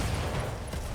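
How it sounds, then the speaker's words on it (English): An ammunition explosion in the BattleTech game rumbles as a dense, continuous burst of crackling blasts and mechanical clatter, loud and close throughout. "Ooh, ammo explosion."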